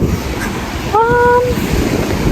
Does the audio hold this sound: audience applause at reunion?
no